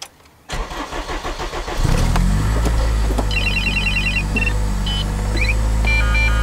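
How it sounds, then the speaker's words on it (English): An Acura RSX Type-S starts and idles while a radar detector inside chirps with several short electronic beeps and tone bursts over the steady engine hum. "I think that's a radar detector"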